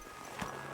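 A horse's hooves clip-clop in the video game Kingdom Come: Deliverance II, a single brief faint hoofbeat against quiet background ambience.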